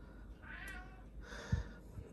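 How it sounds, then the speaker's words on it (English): A house cat meows twice, each a drawn-out plaintive call, over the steady low hum of a 3D printer's cooling fans, with a soft thump near the end. "And my cat needs something"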